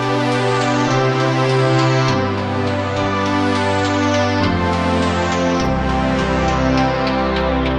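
A layered synth preset run through a Chow tape model for a retro, Stranger Things style tone, heard as rich sustained chords that shift every second or two, with bright repeated plucks sweeping downward over them, loud and alone.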